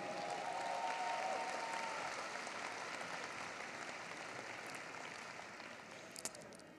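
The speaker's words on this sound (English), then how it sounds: "would you please stand and give a round of applause" Graduating high school class ceremony audience applauding, a dense, sustained wash of clapping from a large crowd that stays full and steady before slowly thinning toward the end.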